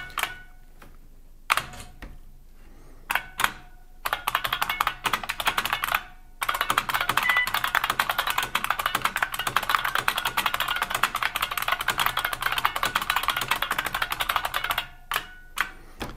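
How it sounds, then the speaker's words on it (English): An IBM 6780 Quietwriter keyboard being typed on, with a few scattered keystrokes giving way to a long, dense, steady burst of rapid close clicking before trailing off into isolated taps. "this keyboard is amazing."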